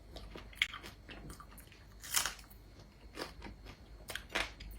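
Close crunching and chewing of small talangka crabs being eaten: quiet, irregular crackly bites and mouth sounds over a low background, with a few sharper crunches.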